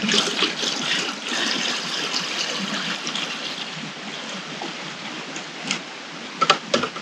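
Water pouring into a camp oven pot to top it up for brining chicken, a steady splashing trickle that stays fairly even and close, ending with a few small clinks.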